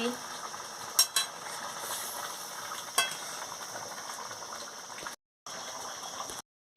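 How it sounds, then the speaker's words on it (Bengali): Bengali fish curry with taro simmering in a pan, a soft bubbling hiss under a few sharp clinks of a utensil against the pan, with brief gaps of silence near the end. "মাছটা দিয়ে ভালো করে ফুটিয়ে নিচ্ছি"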